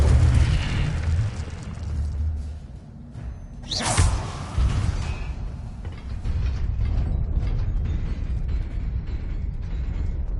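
The Incendio fire spell cast in Hogwarts Legacy bursts out with a sharp whooshing flare over a steady, dense rumble of game ambience, fading back into a low continuous texture.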